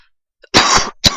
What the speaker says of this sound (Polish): O Jezu, przepraszam was za kaszel.